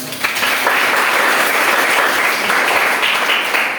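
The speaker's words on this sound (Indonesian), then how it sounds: "Oke, berikan tepuk tangan." Steady classroom applause from a group of students fills the room, loud and continuous for several seconds with no speech over it.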